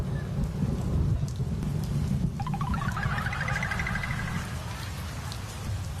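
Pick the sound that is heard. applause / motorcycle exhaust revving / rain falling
rain falling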